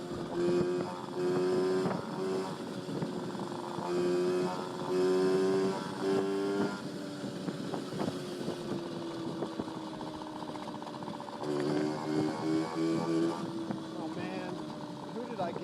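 A 1981 Honda Express NC50 barn-find moped with an SHA carburetor rides through traffic, its small two-stroke engine buzzing steadily and changing pitch as it speeds up and slows, with a rider talking over it.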